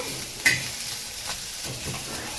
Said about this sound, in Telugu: అందుకనేసి నేను ఫ్రై చేస్తున్నాను.